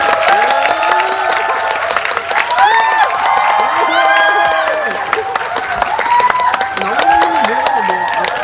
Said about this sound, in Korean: 여러분들 큰 박수 주시면 조인성 배우님 그리고 강풀 작가님 함께 하시겠습니다. 큰 박수 부탁드립니다.